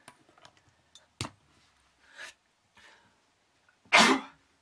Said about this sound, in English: I'm going to sneeze in a moment